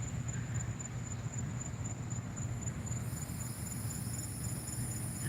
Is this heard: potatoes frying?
no